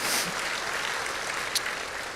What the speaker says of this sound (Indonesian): Berikan tepuk tangan kita untuk Tuhan kita.